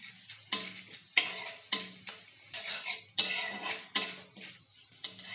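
Chana dal fries in hot oil as a spoon stirs it in a pan, with bursts of sizzling and scraping strokes roughly every half second to second, close and clear with no voices.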